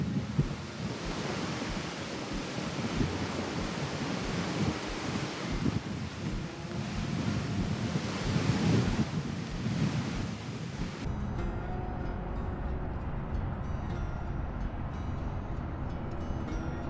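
Ocean waves roll onto the coast at Castlepoint, New Zealand, a steady, broad wash of surf and wind noise that stays loud throughout, with no voices.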